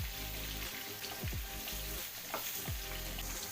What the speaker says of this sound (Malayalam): അതിലേക്ക് വേണ്ട 2 സവാള അരിഞ്ഞെടുത്തതാണ്, അത് വഴറ്റിയെടുക്കുക.